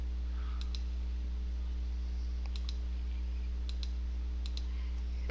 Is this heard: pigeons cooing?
no